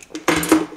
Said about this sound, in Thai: ของแบบแล้วก็กุญแจรถของย่าจ้ะ